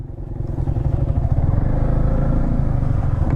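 A motorcycle engine drones steadily and loudly up close as the bike rides through deep, slippery mud, with a dense low rumble and rattling throughout.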